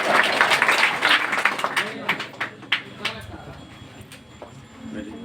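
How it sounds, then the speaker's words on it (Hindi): Applause at a village ceremony in Madhubani, Bihar, honouring students' exam results; a dense crowd clapping fades and thins over several seconds, with scattered individual claps and murmuring voices underneath. "एक बार जोरदार ताली"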